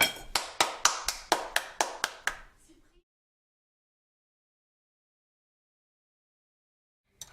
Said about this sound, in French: on remercie Antonin et on l'applaudit